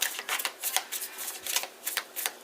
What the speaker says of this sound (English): Alright, 3 shuffles.